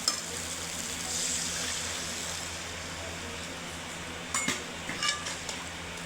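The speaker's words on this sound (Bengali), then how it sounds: "এবার অল্প করে জল দিয়ে দেবো।" Spiced masala for prawn curry sizzles steadily in a pan as a little water is added, giving a soft continuous frying hiss with a few light clinks and stirring sounds near the end.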